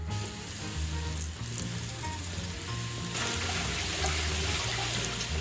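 Steady, loud sizzling of large pork chunks frying in oil in a pot, with a constant crackle that grows slightly more intense partway through.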